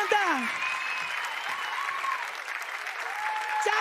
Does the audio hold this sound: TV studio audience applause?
yes